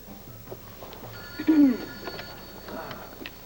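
A telephone rings in an indoor soap-opera scene, a soft steady electronic tone with a brief louder burst near the middle, partly under voices.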